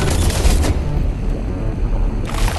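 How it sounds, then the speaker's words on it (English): A grenade blast in the VR game Animal Company bursts loud and broadband, then a rumbling, crackling tail trails off before another burst of noise near the end. "First, we will try with the grenade. In you go, sir. Fire in the hole."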